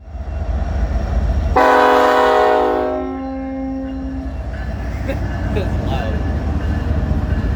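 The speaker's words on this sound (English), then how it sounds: "we see a BNSF coal train passing by, though as it passed, it blew its loud horn" A BNSF coal train blasts its loud horn at close range in Elkhart, Indiana, one long sustained chord cutting in over the rumble of passing cars, then fading as the heavy rolling noise carries on.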